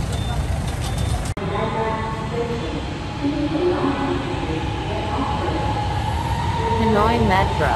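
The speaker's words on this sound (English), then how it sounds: "Hanoi Metro." Hanoi Metro train heard up close, a steady loud rumble of rolling stock with shifting tonal whine, continuous throughout with a brief dropout early on.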